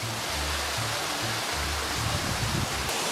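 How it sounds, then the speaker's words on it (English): A jungle waterfall pours in a steady, dense roar of rushing water, loud and continuous with no pauses, with a faint low rumble underneath and no talking. "We arrived at another sightseeing spot, the waterfall."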